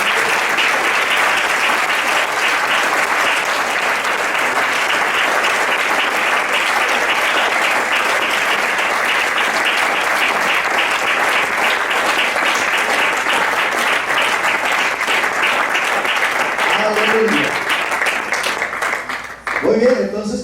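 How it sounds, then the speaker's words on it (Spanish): A church congregation claps steadily in praise for about seventeen seconds, the dense applause loud and even before tapering off, with a voice breaking in near the end. "¿Por qué no le das un aplauso al Señor?"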